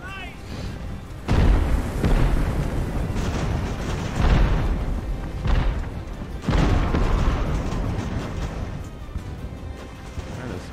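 Heavy volleys of musket fire in the age-of-sail naval battle game Ultimate Admiral Age of Sail, rolling booms in several waves with a rumbling crash between them and a voice talking over parts.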